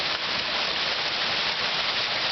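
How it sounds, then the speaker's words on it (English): Light rain falling in the Quinault rain forest in Washington, a steady, even hiss of drops on leaves and ground that fills the whole stretch without a break and with no voices. "Starting to rain a little bit."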